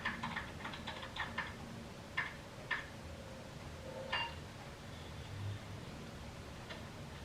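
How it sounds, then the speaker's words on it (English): Keys on a computer keyboard are tapped in scattered short bursts against a steady background hiss, with sparse clicks spread over several seconds and no voices. "Just use the keyboard."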